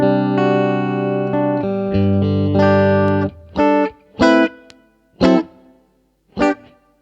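Sustained electric guitar chords followed by separated single notes through a Fractal VP4 large hall reverb, each ringing out into a long, spacious reverb tail; no voices.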